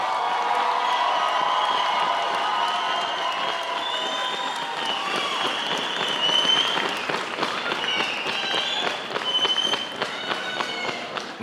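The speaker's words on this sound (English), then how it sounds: "Can we give a round of applause for our virtual academy?" Graduation ceremony crowd applauding a virtual academy class, with steady clapping mixed with cheering, whoops and tonal whistles or calls over about eleven seconds, slightly swelling midway.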